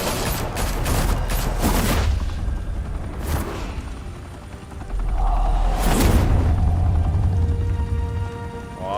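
Rapid volleys of gunfire crackle and boom in a Telltale Batman game scene, heavy bursts at the start and again midway, with mechanical clanks between them.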